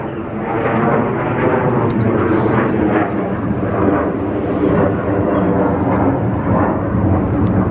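A loud airplane roars overhead, a steady low rumbling drone that fills the whole stretch and never lets up.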